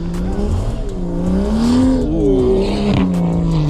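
Car drifting on fresh snow, engine revving and warbling up and down in pitch as it slides, loud and close, with a faint voice murmuring underneath.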